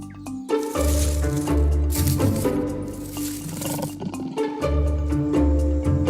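A big wild cat, a jaguar of the rainforest, gives deep roars set in a busy, layered mix of low rumbling tones and dense sound, loud and continuous across the whole stretch.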